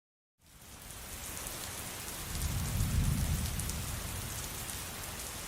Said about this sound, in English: You have a little light rain in the background, but there's a very, very kind of like a distant thunder going on there.